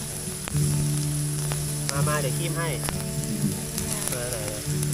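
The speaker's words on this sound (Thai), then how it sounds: "วันนี้เรามากินหมูกระทะ" Steady, close sizzling of pork frying on a hot grill pan, a continuous crackling hiss running beneath casual talk.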